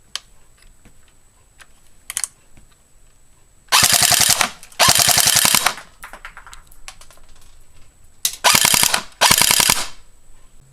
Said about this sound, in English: this is a firing test to show you guys the blowback function and just a general sound of the gun